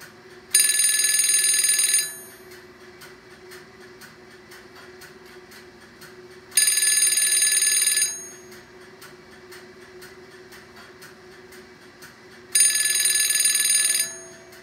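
A Western Electric Contour prototype telephone bell rings in three bursts, each about a second and a half of rapid metallic trilling, separated by quiet gaps of several seconds.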